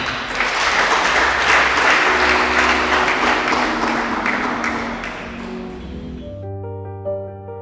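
A congregation at a church wedding breaks into sustained, dense applause that slowly fades, and a few keyboard notes sound at the end.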